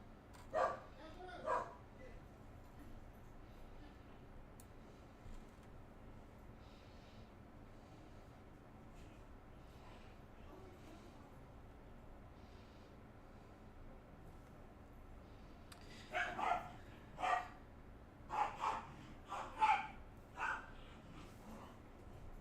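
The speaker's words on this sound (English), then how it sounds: "If you hear a little dog in the background, that is my brother's corgi, Raspberry." A small corgi barks in the background of a room, in two bursts of yips near the start and a longer cluster of barks toward the end, fairly faint and separated by quiet stretches.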